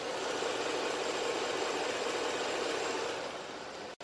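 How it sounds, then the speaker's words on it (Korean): A 3.5-litre V6 gasoline engine idling in a large flagship-class car, a steady, quiet, smooth hum with no speech, heard close and constant before a brief cutoff at the end. "엔진 소음 먼저 들려드리면은"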